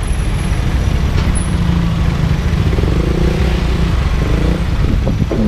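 Heavy city traffic on Shaw Boulevard, with a dense low rumble of buses, trucks and motorcycles close by. A hiss like an air brake cuts through partway, and rising engine tones come near the end.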